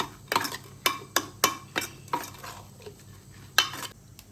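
A spoon knocks and scrapes against a bowl while spices are stirred into a moong dal snack mixture, a few sharp, close clinks at irregular intervals with no talk.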